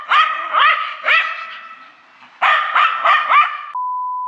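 A small dog barks in two quick bursts of sharp, high yips, close and loud, with a short pause between the groups and no talk over them.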